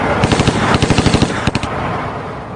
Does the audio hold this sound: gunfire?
yes